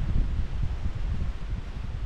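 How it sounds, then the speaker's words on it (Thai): Strong wind buffets a high cliff-top lookout, a steady loud roar and rumble of gusts battering the microphone with no pause and no talking. "ลมแรงมากจน จนเย็นหนาว"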